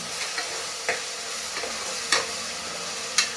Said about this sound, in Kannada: ಈ ಥರ ಫ್ರೈ ಮಾಡ್ಕೋಬೇಕು ನೋಡಿ, ಹಸಿ ವಾಸನೆ ಹೋಗೋ ತನಕ ಫ್ರೈ ಮಾಡ್ಕೋಬೇಕು